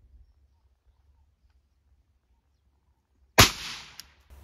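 After a long stretch of near silence, one sharp .22 LR rifle shot firing CCI Stinger ammunition in a penetration test cracks loudly and fades with a short echo, followed by a faint click.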